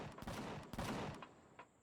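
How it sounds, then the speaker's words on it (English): Sentry gun in the Empyrion Galactic Survival video game firing several quick, faint bursts of gunfire with short gaps between them. "That's my sentry gun."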